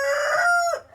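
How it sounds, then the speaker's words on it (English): A single close, loud rooster crow rises and holds for under a second before cutting off, with no one speaking over it. "You don't crow until I start filming a video."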